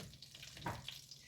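Vegetables softening briefly in a pan, giving a soft, steady low sizzle with a slightly louder flare of crackle midway, close by and with no talking.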